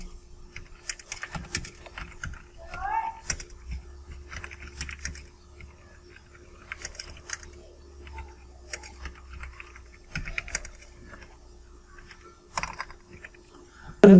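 Keys on a computer keyboard clatter in quick irregular bursts with short pauses, close and crisp, while an office document is typed, with no voices present.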